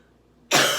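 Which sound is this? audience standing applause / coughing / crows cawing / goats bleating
coughing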